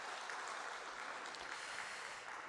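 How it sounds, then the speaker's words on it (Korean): A church congregation applauds during a Sunday service, a faint, even patter of many hands heard from a distance, with no talking over it. "우리 축복으로 잘 행복하게 살라고 박수로 축복해 주시면 감사드리겠습니다."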